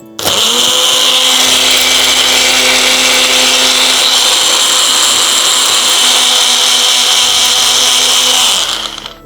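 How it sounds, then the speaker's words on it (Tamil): A loud mixer grinder whirs at high speed grinding amla, turmeric and asafoetida with a little water, without pause for several seconds, then winds down abruptly at the end. "இவை மூன்றும் சேர்த்து கொஞ்சம் நீர் விட்டு அரைச்சிடணும்"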